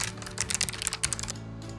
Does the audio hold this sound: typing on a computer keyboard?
yes